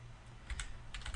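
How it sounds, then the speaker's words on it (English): Quick, close clicks of fingers typing on a computer keyboard while setting up a style in Photoshop, a short burst of keystrokes over quiet room tone. "nice typing there"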